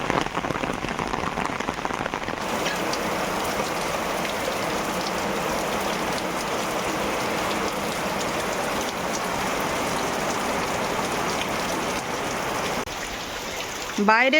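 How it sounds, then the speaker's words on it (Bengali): Heavy rain pours down steadily indoors, water dripping and splashing from a leaking roof, a dense continuous wash of drops that stays loud throughout with no break. "যে পরিমাণে বৃষ্টি হচ্ছে তার থেকে বেশি মনে হয় ঘরের মধ্যে বৃষ্টি হচ্ছে"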